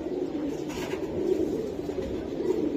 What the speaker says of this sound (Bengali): এটা একটা নর কবুতর ভাই, নর